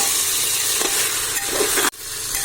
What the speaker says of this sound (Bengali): বারবার আমাদের নাড়াতে হবে যাতে নিচে লেগে না যায়